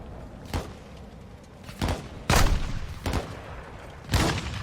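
Several separate gunshot bursts from Call of Duty Modern Warfare 2 on PC, allied troops firing nearby: five or six loud cracks spaced irregularly, each with a short boomy tail, no talk over them.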